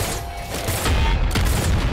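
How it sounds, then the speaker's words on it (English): Pistol gunfire in the video game Nuclear Throne, loud dense bursts of rapid shots and booms stacked into a continuous barrage, with no talk over it. "So this pistol seems like it'll be good."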